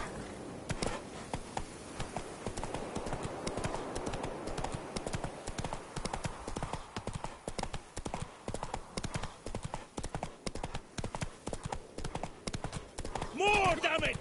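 Horse hooves trotting in The Witcher 3, a quick steady clip-clop running the whole time under a speaking voice, with a brief louder sound near the end.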